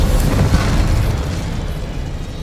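Spell blasts in the Hogwarts Legacy video game: dense, loud magical explosions and booming bursts rumble continuously through the clip, with no talk over them.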